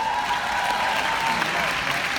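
Audience applause at a corporate keynote fills a large hall, a steady crowd of clapping with a few voices mixed in, sustained throughout.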